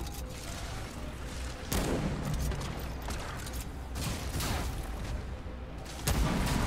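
A six-shot revolver fires in the video game Remnant 2. Several sharp reports land at irregular intervals over a dense, noisy game soundscape of rumbling and mechanical clatter.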